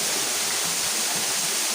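Steady, loud rush of falling water at Uboo Falls, a continuous broadband roar filling the short clip with no pauses or voices.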